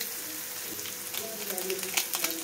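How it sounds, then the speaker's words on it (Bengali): Mixed vegetables such as capsicum, beans, spring onion and cauliflower frying with Maggi noodles in a pan, a steady hiss with faint stirring clicks building toward the end, fairly close. "ভাজবো, তো সবজি দিয়ে ভাজা ভাজা ম্যাগি"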